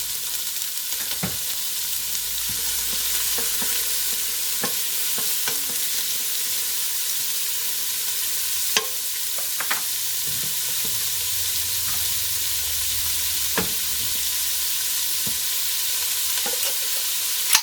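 Chopped yellow onion and celery sizzle steadily in about a tablespoon of oil in a pan, a constant close frying hiss broken by occasional stirring clinks and scrapes.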